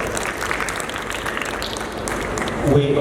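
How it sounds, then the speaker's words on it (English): Steady audience applause fills the room at an investment event in Uganda, a dense wash of many hands clapping with light crowd murmur, continuing evenly before a voice begins near the end. "Round of applause."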